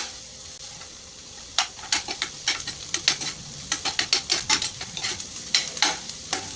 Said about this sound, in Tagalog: And then, garlic. Hintayin natin guys na mag-golden brown ng konti.